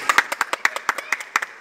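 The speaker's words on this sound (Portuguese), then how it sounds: "então palmas para ele." A few schoolchildren clap for their physical education teacher, sharp distinct claps in a loose uneven rhythm, roughly a dozen close hits over a second and a half.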